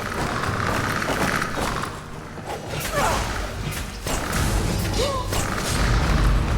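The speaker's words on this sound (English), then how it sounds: "Explosion galore." Explosions and magic blasts from Skyrim with the Aeolus Arcana mod boom and whoosh in a loud, dense flurry of thuds, crashes and swishes, with a few impacts standing out among constant roaring effects.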